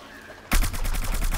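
Shadow flower plant firing in the Plants vs Zombies video game, a sudden start of loud, rapid gunfire-like bursts that repeat in a fast, even rhythm after a quiet moment.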